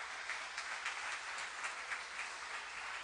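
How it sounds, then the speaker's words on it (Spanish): Audience applause at a church gathering, a steady wash of many hands clapping at moderate distance, even and sustained with no voices over it. "Dale un fuerte aplauso a Jesús."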